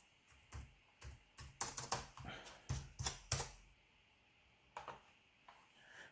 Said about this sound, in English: I'll just type that into my calculator